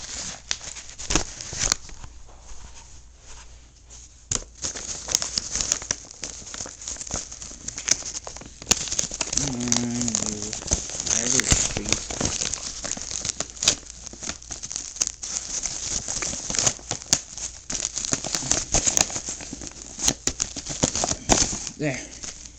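Bubble wrap crinkles and rustles close by as boxed toy train coaches are unwrapped, with tearing and crackling bursts throughout and a person talking at intervals.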